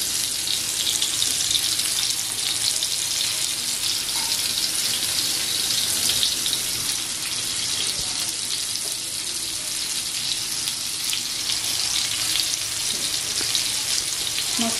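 Karali fish shallow-frying in oil over a low gas flame gives a dense, even crackling sizzle that holds steady and close for the whole stretch, with no voices over it.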